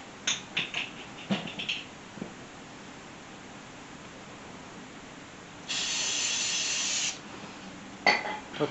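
Carburetor cleaner sprays onto an engine intake manifold during a 2006 Toyota Highlander spark plug job, a steady hiss of about a second and a half amid faint clicks and workshop handling noises, with no talking.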